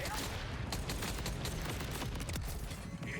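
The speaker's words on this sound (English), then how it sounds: "If I just use it like a regular torque weapon," Torque weapon fire from the Fleabag in Borderlands 4, a dense, continuous stream of muffled shots and blasts, steady and moderately loud with no pauses.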